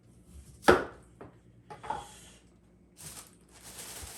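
A knife slicing winter radish for drying on a cutting board, a few sharp isolated chops spaced by pauses, close and fairly clear with no talk.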